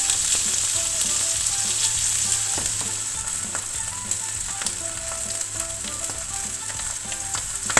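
A steak searing undisturbed in a hot pan gives a loud, constant sizzle with fine crackling pops, steady from start to finish with no voices.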